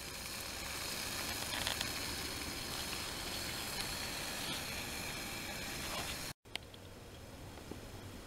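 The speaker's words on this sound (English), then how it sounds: "Okay, so we've got our boiling water all ready." Water boils in a pot on a Vargo stainless steel hexagon wood stove, a steady close hiss and bubbling rumble that fills the clip, with one brief dropout near the end.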